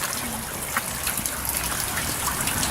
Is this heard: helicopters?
no